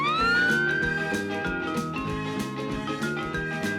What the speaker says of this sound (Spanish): Camión de bomberos.